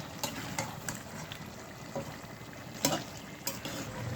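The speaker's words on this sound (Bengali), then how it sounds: "কষানো মুরগির মাংসটা নাড়িয়ে দেবো" Bhuna country chicken cooked with boiled chana dal is stirred in a pan, giving a soft continuous sizzle with several sharp scraping strokes of the spoon against the metal, close by and without speech.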